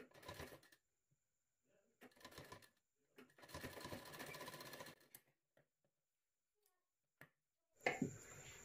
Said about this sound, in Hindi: इस पर इस तरह मोड़ते हुए सिलाई लगा देना है।